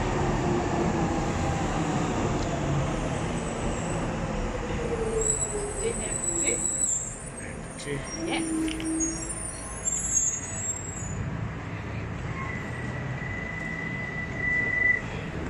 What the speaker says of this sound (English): And the DLR train is arriving number 99